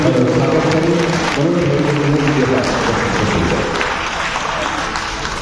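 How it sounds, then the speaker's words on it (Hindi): An audience claps to welcome theatre directors at a talk, loud and dense applause with some voices talking over it early on, thinning and softening over the last seconds. "जोरदार तालियों से आइए हम सब पहले हमारे स्वागत करें।"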